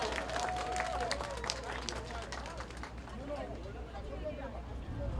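At an outdoor political campaign rally in a park, a crowd claps continuously in the background, a dense patter under a loud announcer's voice and crowd noise.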